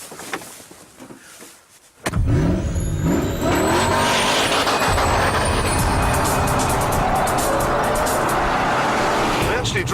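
A £111,000 production Ford GT supercar, a 43-inch-tall sports car, starts up after a quiet moment and pulls away, its loud engine roaring and revving in rising, sweeping surges that hold steady and close to the end.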